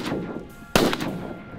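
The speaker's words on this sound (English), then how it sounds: "That was a good shot." A single sharp shotgun blast during a duck and goose hunt, a loud broadband crack at mid-clip over an outdoor, wind-rough background with faint calls before it.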